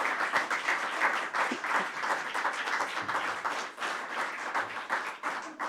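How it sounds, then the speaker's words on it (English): Audience at an annual meeting applauding for Jasmine, many hands clapping in a steady, moderately loud round that holds for several seconds with no talk over it. "Just a round of applause for Jasmine"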